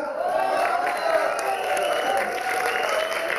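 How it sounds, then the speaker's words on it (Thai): A steady wash of audience applause and cheering at a talent show on a cruise ship, continuous and moderately loud throughout. "ขอเสียงปรบมือ"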